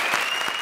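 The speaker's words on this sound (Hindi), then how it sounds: "जरा तालियां दो यार" Studio audience applause at a Hindi television comedy show, heard as a brief, dense burst of many hands clapping at a steady level throughout.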